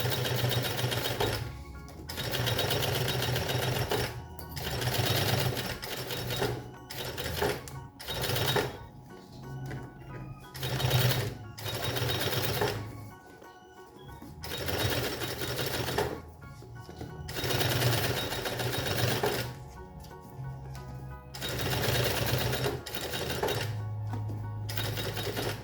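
A sewing machine stitches bias binding onto a child's lunch bag in bursts of rapid, loud mechanical whirring, broken by short pauses, close up with no talk.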